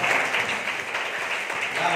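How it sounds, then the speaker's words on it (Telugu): Congregation at a Sunday church service clapping together in praise, a dense steady wash of many hands filling the room for a couple of seconds with some voices mixed in. "అందరూ చప్పట్లు కొట్టి దేవుని స్తుతించండి."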